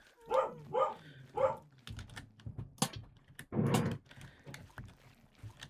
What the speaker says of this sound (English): There goes the dog barking.